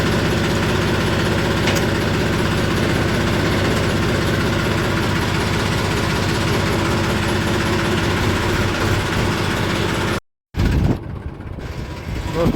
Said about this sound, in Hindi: अगर ये ट्रैक्टर भी रनिंग में रहेगा